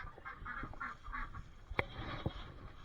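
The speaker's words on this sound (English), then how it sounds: "My baby ducks are not happy" Baby ducks calling in a home garden, a few faint, rhythmic quacking calls at first, then quieter, followed by a couple of sharp clicks or knocks nearby.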